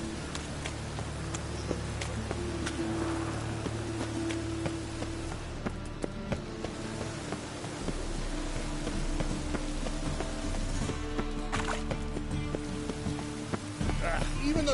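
Steady rain falls in a PS4 video game town, a continuous hiss with low rumbling tones and game music underneath, with speech from the player running over it throughout.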